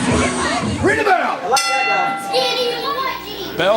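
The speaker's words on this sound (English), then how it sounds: "Ring the bell!" A ring bell clangs at a CWF Mid-Atlantic professional wrestling event, one bright metallic strike ringing out amid a noisy crowd with shouting voices.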